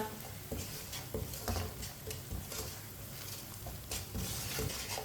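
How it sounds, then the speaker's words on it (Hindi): Spices cooking in a pan on a low flame for bitter gourd (karela) sabzi, giving a steady soft sizzle and patter with occasional spoon scrapes and stirring clinks close by, no talking. "हल्की सी आंच पर आधे मिनट के लिए पका लेंगे मसालों को जलने नहीं देना"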